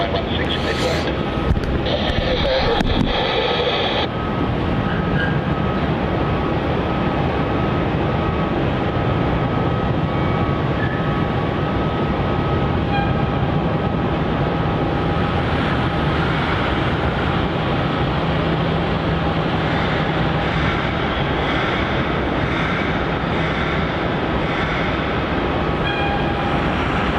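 Qantas airliner QF769 departing Melbourne Airport for Perth, a steady, continuous jet roar heard from a distance alongside faint radio chatter, holding level for the whole stretch.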